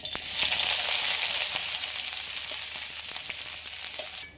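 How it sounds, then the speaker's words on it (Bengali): Chopped onion frying in mustard oil in a kadai, a loud, even hiss of sizzling close by with soft intermittent stirring taps, easing slightly toward the end, without any speech. "ওর মধ্যে দিয়ে দিচ্ছি পেঁয়াজ কুচি"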